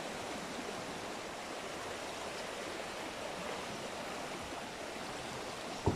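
Creek water flows steadily past a campsite beside Gökpınar pond in Gürün, Sivas, a constant even rushing with no voices.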